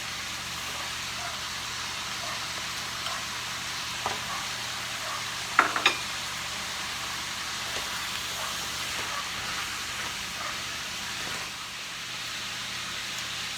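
Sliced pork belly and slivers of garlic fry in a pan, making a steady, even sizzle with a couple of sharper pops in the middle. It is moderately quiet and close, with no talking over it.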